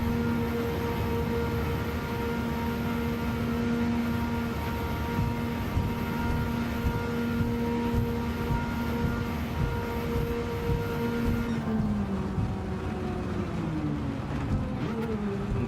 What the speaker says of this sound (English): But that's straight six howl.